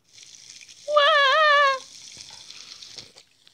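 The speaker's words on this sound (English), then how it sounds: "Then we're gonna fry you." Steady sizzling hiss from food frying in the Toca Kitchen game, broken near the start by a short, warbling cartoon squeal that rises above it.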